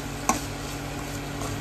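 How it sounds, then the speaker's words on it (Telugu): Vegetables for veg fried rice stirred and frying in a pan: a steady, even sizzle throughout, with one sharp clink of the utensil early on. "మధ్య మధ్యలో అలా చూస్తూ కదుపుతుండాలి, అలాగా కొంచెం బాగా ఫ్రై అయినంత వరకు"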